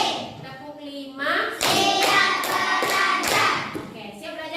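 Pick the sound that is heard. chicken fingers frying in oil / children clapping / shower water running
children clapping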